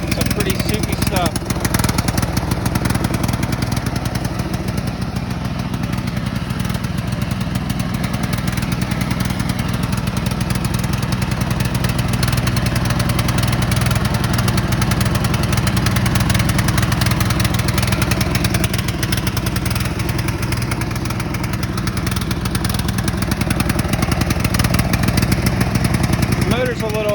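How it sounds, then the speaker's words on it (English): Worn lawn mower engine with piston ring problems running continuously, a loud, rough, choppy drone that carries throughout at close range. "Motor's a little choppy. It's got some ring problems"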